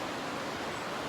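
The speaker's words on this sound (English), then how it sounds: "So the river's loud." A loud river rushes behind the listener outdoors near a shore, a dense steady roar of flowing water filling the whole moment without voices.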